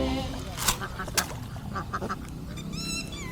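Ducks quack while being fed near a home in Thailand, a few short nasal calls close by, mixed with people talking and rustling.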